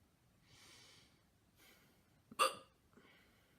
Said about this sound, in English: Oh my god, with these freaking hiccups.